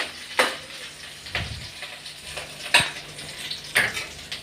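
Garlic and ginger frying in a pan while a spoon stirs them, giving a soft steady sizzle broken by a few sharp scraping clicks of the spoon against the pan, close and moderately loud, with no talking.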